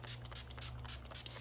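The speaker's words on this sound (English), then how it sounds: "Where's my finishing spray?" Finishing spray hissing from a can in a short steady burst during a makeup routine, close and fairly quiet, a little stronger at the very end.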